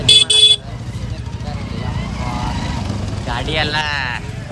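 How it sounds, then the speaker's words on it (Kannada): Road traffic on the way to the Triveni Sangam ghat at the Mahakumbh Mela, with a couple of short horn toots at the start and then a continuous engine drone and passing vehicles under people talking. "ಗಾಡಿ ಎಲ್ಲ ತಪ್ಪ ಅಡ್ಡಾಡಕತ್ತಾವ"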